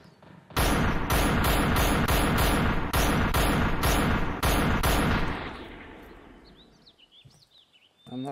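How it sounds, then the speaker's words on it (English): Gunfire in the VR battle royale game STAND OUT: a loud, dense burst of rapid shots with brief gaps for about five seconds, then fading into quieter ambience with faint bird calls. "People are shooting at me."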